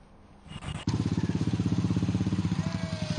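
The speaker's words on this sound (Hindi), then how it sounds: "तो ये तस्वीरें आप देख सकते हैं, जहां पर बाइक रैली का आयोजन किया गया।" Several motorcycles rumble together at an environmental awareness bike rally in Kashipur, a steady loud engine drone with rhythmic pulsing that kicks in abruptly after a brief quieter start.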